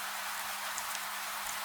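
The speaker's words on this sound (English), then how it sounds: "the sound of rain changes again. It is overhead now, tapping the roof, dripping from carved edges" Gentle rain falls steadily on a roof overhead at night, a soft, even hiss of patter with no distinct drops or voices.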